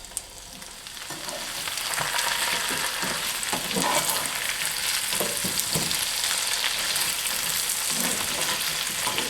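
Red potatoes frying and browning in a pan for creamed peas and potatoes, giving a loud continuous sizzle that swells after the first seconds, with occasional stirring clicks close up and no talking.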